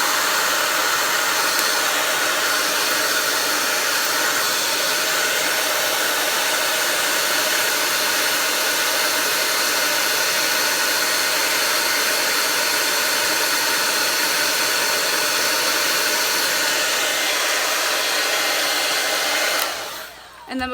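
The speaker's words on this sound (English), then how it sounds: "I just like to curl them one last time with the blow dryer" A blow dryer roars steadily at close range for a long stretch, then cuts off abruptly at the end.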